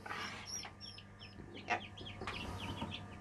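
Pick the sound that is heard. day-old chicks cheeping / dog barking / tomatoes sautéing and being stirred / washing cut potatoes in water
day-old chicks cheeping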